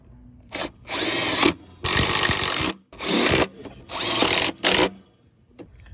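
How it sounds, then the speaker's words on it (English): Several loud bursts of a power drill whirring in quick succession with short pauses between, close up, driving home four bolts on a car's throttle body. "we can go ahead and send them home with the drill"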